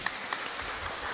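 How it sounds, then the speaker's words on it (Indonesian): Church congregation at a Sunday service clapping in praise, a brief, continuous spatter of many hands heard at a distance, with no talk over it. "Alani tepuk tangan kita untuk Tuhan Yesus."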